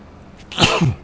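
One sharp sneeze close by, a quick breathy intake followed by an explosive burst, with no other sounds around it.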